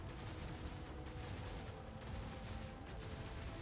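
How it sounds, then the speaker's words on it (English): Muffled bursts of gunfire crackle steadily through a vox channel in the Warhammer 40,000 game Rogue Trader, a dense, continuous battle din with no voices over it. "The Vox transmits the sounds of gunfire and death screams."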